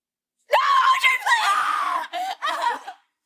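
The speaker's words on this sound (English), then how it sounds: "you're screaming" A woman screams loudly and close in a dramatic scene, a long wavering cry that breaks off and resumes in two shorter bursts before stopping.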